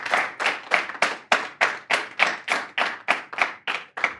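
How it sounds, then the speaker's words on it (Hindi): Audience claps to welcome a guest on an Uttarakhand stage show, a slow, evenly spaced rhythmic clapping of about a dozen loud, sharp beats in unison. "जोरदार तालियों के साथ में स्वागत कीजिए मोहित"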